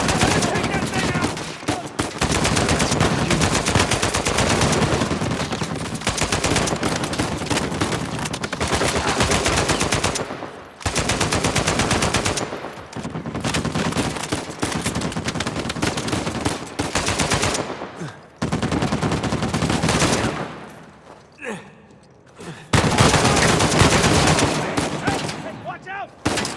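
Heavy turret machine gun fire in Uncharted 4, loud sustained bursts of rapid automatic shots broken by brief pauses.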